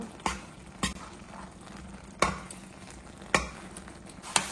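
Kashi halwa being stirred with ghee in a pan, a spoon scraping in several distinct, fairly close strokes over a faint steady background.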